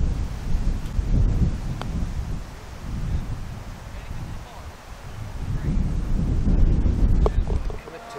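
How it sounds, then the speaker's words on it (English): Strong, hard wind blows across an open golf course, a loud continuous rumbling roar buffeting the microphone and rising and falling in gusts over several seconds. "With a hard left to right wind"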